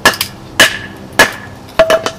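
Four sharp, evenly spaced strikes of a Kershaw Tinder's hammer end batoning through a log, each a loud close metallic crack with a short ringing tail.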